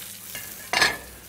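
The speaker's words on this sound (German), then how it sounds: "Ja, und jetzt braten wir Zwiebeln und Pilze" Onions hitting a hot wok for stir-frying, a brief stir at first then a loud burst of sizzling that holds for about a quarter second before fading, close by with no talk.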